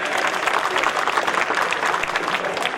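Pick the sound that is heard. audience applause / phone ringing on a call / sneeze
audience applause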